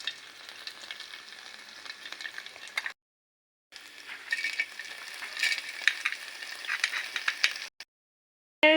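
Desi ghee residue fries in a pan for a panjeeri mix, a bright crackling sizzle that breaks off into silence twice before returning, with no one speaking.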